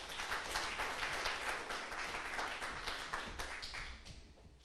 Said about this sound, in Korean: 박수를 맞아주시죠.